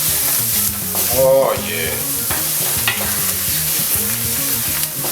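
Shrimp étouffée sizzles and fries steadily in a pan as it is stirred, with continuous close frying noise and scraping throughout, while someone speaks briefly over it.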